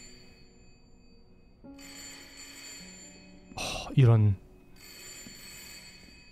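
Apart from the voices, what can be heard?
telephone ringing in the horror video game Layers of Fear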